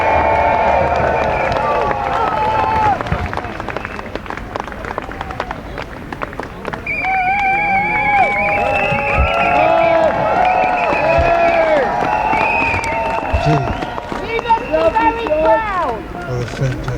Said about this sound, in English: What a fantastic crowd.